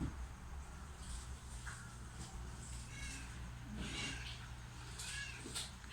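Faint, intermittent cat meows over a steady low hum, several short calls spread across a quiet room.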